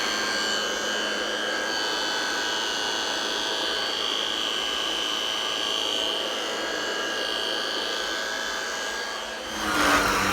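A G-Tech Air Ram cordless vacuum cleaner runs with a steady, close, whining hum and airy rush, holding constant for about nine seconds before a brief rise at the end, with no talking.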